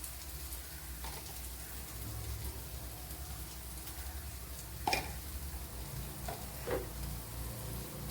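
Oil heats in a kitchen pan before fenugreek and mustard seeds go in for a fish curry masala, with a quiet, steady hiss and crackle and a few brief clinks and scrapes over it, no voices.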